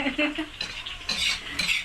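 A spoon serves fried rice from a pot, giving several quick metallic scrapes and clinks in close succession, near and fairly clear.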